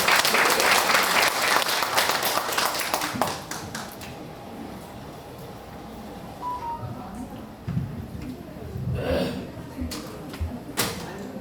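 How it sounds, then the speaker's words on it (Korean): Audience applause at a neighborhood residents' briefing in Sadang-dong, Seoul, loud and dense at first, thins into scattered claps and fades, then a few isolated claps and taps follow. "뜨거운 박수로 맞이해 주시기 바랍니다"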